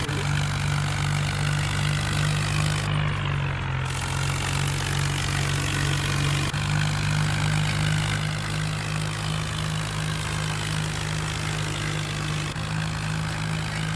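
Tractor engines running steadily on a farm, a continuous low idling drone with a strong throbbing hum, close and loud throughout with no voices.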